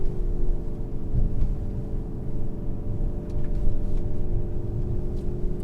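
Mercedes GLC63 AMG engine humming at about 3,000 RPM, a steady low rumble with mild swells that runs through the whole stretch, no voices over it.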